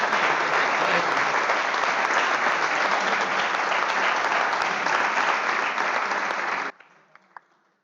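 Dense, loud applause from an audience at a coaching committee event, sustained evenly for several seconds before cutting off abruptly into near silence with a few faint stray sounds.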